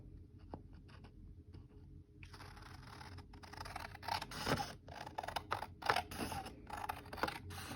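Scissors snipping through a watercolour-painted paper koi fish, a run of small close cuts and crisp snips that grow busier partway through, with light paper handling and no talk.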